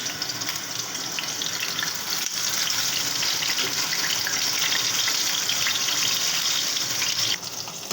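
Vegetables sizzle and crackle in a frying pan as a dense, steady hiss, close and fairly loud, fading slightly near the end with no talking.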